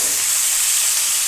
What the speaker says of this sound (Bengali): এইভাবে নেড়ে চেড়ে একটু চিংড়ি মাছটা ভালো করে ভেজে নেব।